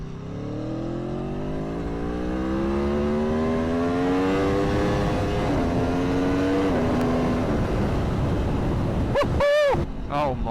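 A V4 motorcycle engine revs up loudly and steadily, its pitch climbing over several seconds before a sharp blip near the end, heard close and alone with no talking.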